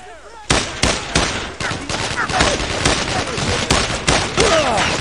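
Rapid bursts of gunfire from a Brothers in Arms World War II video game crack loudly and close, with repeated machine-gun and rifle shots in an irregular barrage throughout.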